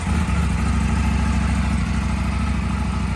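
A 2025 Indian Super Scout motorcycle engine runs steadily nearby, a loud, even low rumble with a pulsing beat that carries unbroken throughout.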